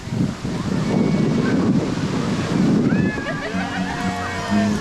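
Ocean waves wash in at a busy surf beach in Siargao, a broad rumbling roar with wind buffeting the microphone, while people's voices rise faintly in the final seconds.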